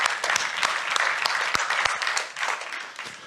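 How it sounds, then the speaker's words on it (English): An audience at a business talk breaks into applause, steady mid-level clapping from many hands that carries on for a few seconds and eases slightly toward the end. "Give a round of applause."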